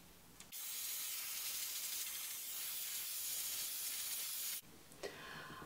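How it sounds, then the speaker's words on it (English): A hair dryer blows steadily on short, fine bob-length hair, a loud continuous airy hiss lasting about four seconds, starting and stopping abruptly with quiet moments on either side. "the rest of my hair, I'm going to flip it that way and dry it that way"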